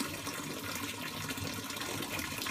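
Water draining from a steam boiler during a Manhattan installation, a steady faint rushing gush that runs continuously with no voices.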